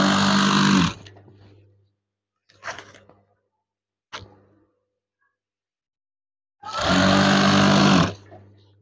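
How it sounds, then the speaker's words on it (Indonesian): An electric sewing machine stitches the eyelet tape along the top of a green curtain in two loud, steady whirring runs, separated by quieter handling bumps and short pauses. "Jahit bagian atas eyelet dan tirai warna hijau."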